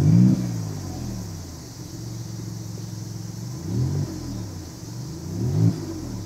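A Maserati MC20 engine fires up with a loud bark, then settles into a deep, steady rumble broken by two more sharp revs, heard alone without talk.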